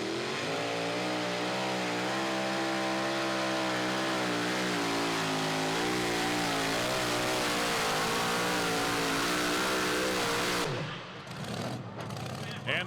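Super modified two-wheel-drive pulling truck Taz Toy revs hard during a pull, a loud, sustained, wavering engine roar with rising and falling pitch that cuts off sharply near the end, with crowd noise underneath.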